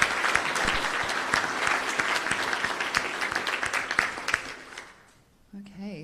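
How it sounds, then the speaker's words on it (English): A conference audience applauds a panel at the close of a discussion day, with dense, sustained clapping from many hands that fades out near the end, followed by a brief voice. "Please join me in a round of applause for our panel."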